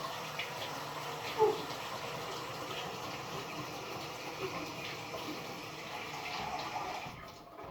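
Hot water running from a kitchen tap, a steady close rush and splash that holds evenly for several seconds before cutting off near the end, with no talking over it.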